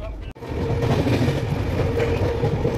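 A moving passenger train rumbles and rattles steadily after a brief dropout at the start, a loud continuous rolling roar with faint rhythmic clatter.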